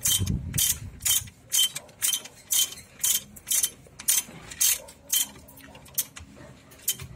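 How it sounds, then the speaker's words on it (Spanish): A ratchet wrench tightens a brake caliper bolt on a Nissan Tiida, giving a steady series of about a dozen sharp metallic clicking bursts, close and evenly spaced, with no talking. "Yo lo aprieto muy bien el tornillo"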